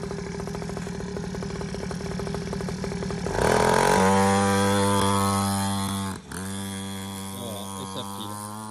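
A 49cc pocket bike's small two-stroke engine buzzes steadily nearby, then revs higher with added throttle, dips briefly and settles back into a strong, raspy drone.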